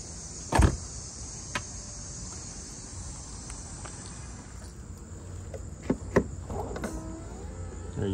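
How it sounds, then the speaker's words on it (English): A Mercedes-Benz CL55 AMG W215 soft-close door is drawn shut with a soft motorized whir, a few light clicks and thumps, over a quiet background hum with faint insect chirping. "Soft suction doors."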